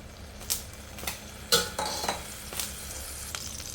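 Lentils fry in hot oil in a pan for a mint chutney tempering, a soft steady sizzle broken by sharp scrapes and clinks of a spoon against the pan, close and without talk.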